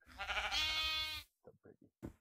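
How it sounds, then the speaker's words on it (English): A sheep lets out one long, loud, wavering bleat close by, followed by a few short quieter bleats or grunts in quick succession after a brief pause. "Sheep"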